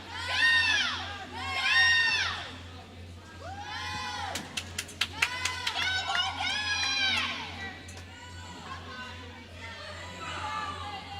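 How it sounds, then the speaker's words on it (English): At a high school swim meet, a woman and a child cheer loudly with high-pitched shouts and whoops, joined by other spectators and a few sharp whistles, echoing in an indoor pool hall. "And there they are as they cheer."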